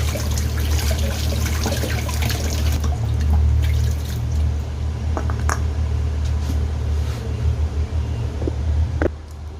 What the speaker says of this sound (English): I'm going to take my time and wash this Gorontula properly.